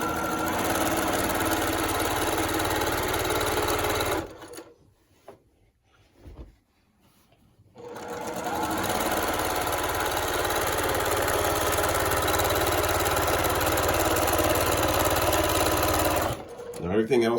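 Sewing machine running a quarter-inch seam on a bargello quilt, a steady mechanical whir that stops for a few seconds in the middle, then resumes and cuts off near the end.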